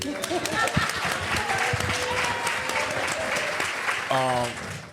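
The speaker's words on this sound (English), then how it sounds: "y'all clap that up" An audience at a relationship brunch breaks into steady applause, a dense wash of clapping that carries on throughout, with voices briefly rising over it near the end.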